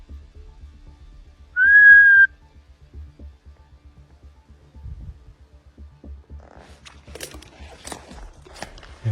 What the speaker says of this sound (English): He lets out a whistle, waiting for a reply.